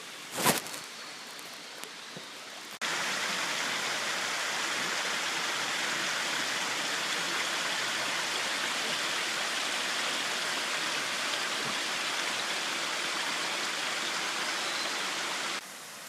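A mountain river beside a trail in Japan rushes in a steady, broadband roar, close and continuous for over ten seconds after a few quieter opening seconds with a brief knock.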